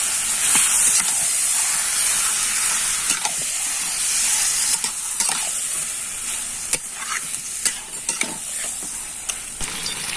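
Chicken stir-fried with spices in oil in a pan, a loud, steady sizzle and hiss with occasional scrapes and knocks of a spatula stirring, close and continuous, no talk.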